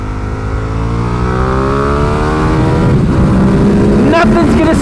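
A Ducati 1098 sport bike revs hard on a racetrack, its engine note climbing steadily in pitch as it accelerates, loud and close, with a brief drop and another surge near the end.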